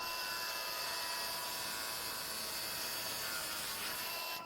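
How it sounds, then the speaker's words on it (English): A grinding wheel cuts through a drain pipe during a bathroom build, giving a steady high-pitched whine with a gritty rasp that holds evenly throughout and stops abruptly at the end, with no talking. "Customize your drain pipe with a grinding wheel."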